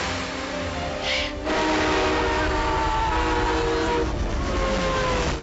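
A train passing in a Harry Potter film scene, a loud continuous rumble with sustained horn-like tonal lines throughout, briefly dipping around the first second before swelling again and holding to the end.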